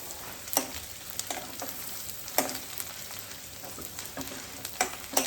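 Chopped garlic fries in hot oil in a pan, giving a continuous close sizzle with scattered sharp pops and light clicks of stirring, and no one speaks.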